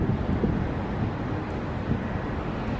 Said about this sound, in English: It's really cold and windy up here.